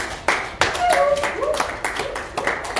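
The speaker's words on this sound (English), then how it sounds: "People who are clapping as if we're tired already." Scattered clapping from a small group at a World Press Freedom Day event mixed with voices talking over it, uneven and fairly close.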